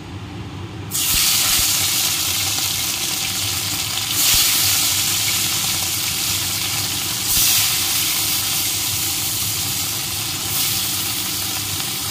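Rohu fish frying in hot oil in a pan over a medium gas flame, a loud steady sizzle that starts abruptly and keeps hissing with gentle swells, no voices.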